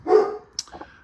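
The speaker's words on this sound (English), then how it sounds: "sorry about my dogs" A pet dog barks at home: one loud, close bark followed by a couple of quieter, shorter yips within about a second, with no talking.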